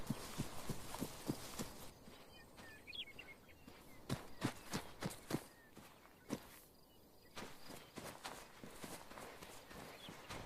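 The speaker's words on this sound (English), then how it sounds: "I think walking on sand and walking on ground, and also tactical pace on sand and ground." Footsteps walking on sand and ground in the ArmA 3 video game, a series of soft, regular steps in clustered runs with short pauses between them, heard alone and fairly near.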